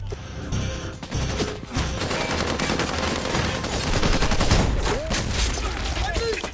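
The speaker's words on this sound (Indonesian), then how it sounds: "dan mengepung tempat persembunyian Brandon, sehingga terjadilah aksi baku tembak di antara mereka." Film shootout gunfire: dense, continuous bursts of shots and crackling fire, loud and chaotic, with some voices mixed in underneath.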